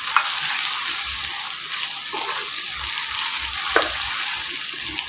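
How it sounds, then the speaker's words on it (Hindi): Potatoes frying in oil with onion, cumin and garlic, stirred in a pan: a steady soft sizzle with occasional scraping stir sounds, close and fairly quiet. "इसे ऑयल में फ्राई करना है एक तरह से"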